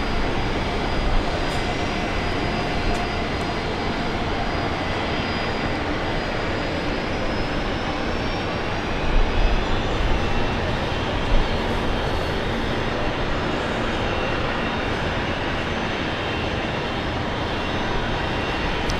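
A passenger airliner arriving on a direct flight from Manila roars at Brisbane Airport, a broad, steady engine rumble that swells slightly midway and holds for the whole stretch.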